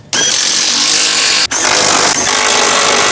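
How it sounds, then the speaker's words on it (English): A power tool tightens rear strut bolts on a Nissan Sentra with a loud, harsh, continuous whirring roar. It pauses for a split second and then keeps running steadily. "And now tighten all the bolts down."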